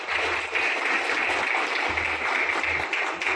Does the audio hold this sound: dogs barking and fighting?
no